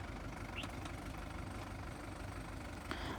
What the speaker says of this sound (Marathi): आपण पाहू शकतो की ट्रॅक्टरच्या टायर आहे तर त्याच्या साह्याने कुट्टी जी आहे ती किती दबली जात आहे